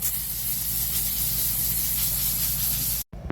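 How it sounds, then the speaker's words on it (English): A garden hose sprays water onto an air conditioner unit that is not cooling, a loud, close, steady hiss that cuts off abruptly near the end before resuming briefly. "So now let's go ahead and spray it from the top to the bottom, from the inside out, and you can just see that water"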